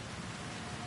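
Steady rain falling in the Cyberpunk 2077: Phantom Liberty video game, a soft, even wash of noise heard alone and fairly quiet across the whole moment.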